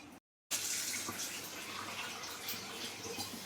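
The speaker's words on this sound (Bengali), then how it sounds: "এই যে মাছগুলো ধুয়ে নেবো, জ্যান্ত মাছ তো একটু বেশি করে ভালো করে ধুতে হয়" Live fish are washed under running water, a steady close splashing rush from a tap into a vessel after a brief silent gap at the start.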